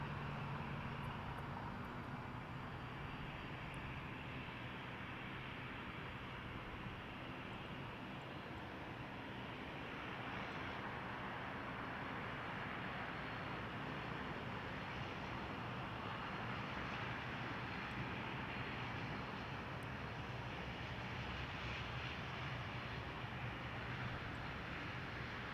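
An airliner landing on runway 24 Left at Toronto Pearson Airport makes a faint, steady distant roar. The broad engine rumble holds evenly for the whole stretch with no voices.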